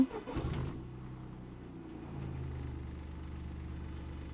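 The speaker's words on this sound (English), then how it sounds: "So let me put the car on now after the 3 heat cycles" A Toyota GR Yaris fitted with a Cusco torque mount sits idling after heat cycles, a low steady engine rumble following a brief start-up flutter, close and even, with a slight swell in level partway through and no speech.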